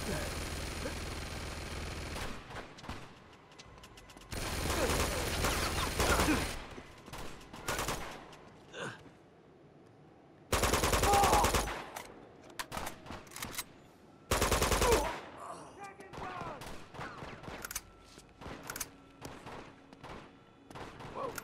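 Turret machine gun fire in the video game Uncharted 2 comes as three loud, sustained automatic bursts of two seconds or less, separated by quieter stretches of game ambience and footsteps.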